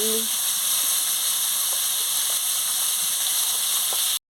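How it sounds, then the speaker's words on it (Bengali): Potatoes and carrots fry in oil in a pan, a continuous loud hiss and sizzle that cuts off abruptly at the end. "আমি আলু আর গাজরটা দিয়ে দিচ্ছি, দিয়ে ভালো করে ভেজে নিচ্ছি"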